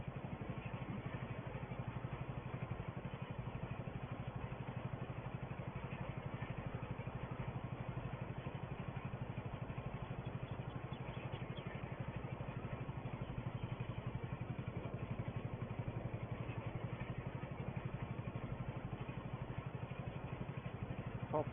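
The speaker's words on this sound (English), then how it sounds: "Popping along nicely, a little single cylinder Porsche engine in it." A single-cylinder Porsche tractor engine popping along while rolling through a field, a steady low muffled chugging throb continuing unchanged throughout, mid-distance and fairly quiet.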